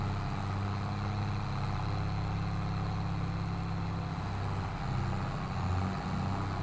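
A tractor engine drones steadily while pulling a cultivator uphill in the farming game Farming Simulator 22, a loud, continuous low rumble with no speech.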